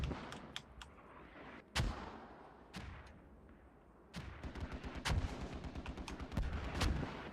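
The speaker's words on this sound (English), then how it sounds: "Mortar. Get down, get down." Mortar rounds land in the military shooter Squad: several sharp, booming detonations, some close and loud and others more distant, echo in an uneven series with a burst of rapid impacts near the end, and no voices are heard.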